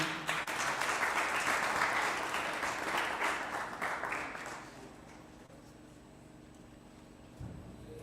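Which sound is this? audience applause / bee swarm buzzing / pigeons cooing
audience applause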